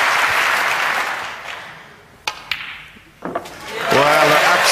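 Snooker crowd at the Wembley Conference Centre during the 2005 Masters final applauds: a sustained wash of clapping fades, a few sharp claps punctuate a lull, then loud applause swells again with a voice faintly underneath.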